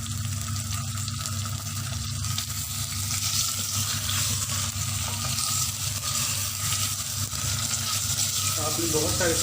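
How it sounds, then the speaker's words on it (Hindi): Beef frying in masala in a handi, Pakistani style, a steady close sizzle with stirring scrapes running throughout at moderate level. "अभी हम इसमें गोश्त डाल के थोड़ा सा भून लेंगे।"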